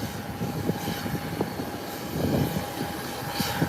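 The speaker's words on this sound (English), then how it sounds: "Another nice takeoff." Airliner taking off at Howard Hamilton International Airport, a broad steady jet roar heard from a distance with a faint whine, no talk.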